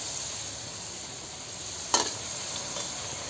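Kajjikaya sweet dumplings frying in overheated oil, a continuous fine hiss and crackle held at an even level, with one brief sharper pop partway through, close and without talk.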